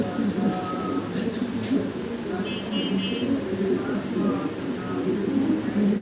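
Pigeons coo softly and repeatedly in a pen, with people talking over the birds.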